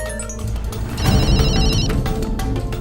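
A mobile phone ringtone sounds in a university chemistry lab during a rushed experiment, a bright tonal ring rising over loud, steady background noise for about a second before fading back into the din.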